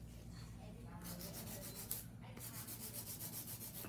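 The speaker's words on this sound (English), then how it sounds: "Of course, hand filing." Fingernails being hand-filed with a nail file during a salon full set with stiletto and coffin shapes, a close, steady scratchy rubbing in repeated back-and-forth strokes that runs continuously.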